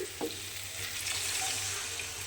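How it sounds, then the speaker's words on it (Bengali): Water is poured into a pan of sautéed cauliflower and potatoes, making a hissing, bubbling sizzle that stays steady and close throughout. A few light clinks of a vessel come at the start and at the end. "তখন আমি এর মধ্যে দিয়ে দেব পরিমাণ মতো জল"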